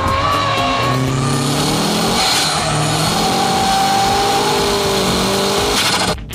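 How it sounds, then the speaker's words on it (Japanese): A drifting car, driven by Keiichi Tsuchiya, skids as its rear tires lock and squeal loudly, long rising and falling screeches over a roaring engine, close and continuous. "いきなりキャーンとリアがロックします。"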